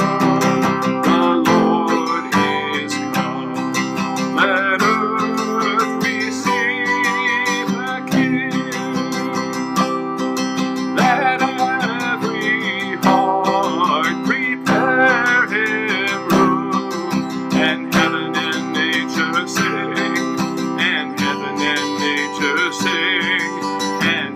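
Strummed and picked acoustic guitar chords played with a capo ring out steadily in a bright, continuous progression of Joy to the World, with no voices.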